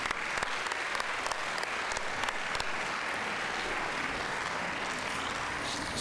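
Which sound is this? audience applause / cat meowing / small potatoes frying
audience applause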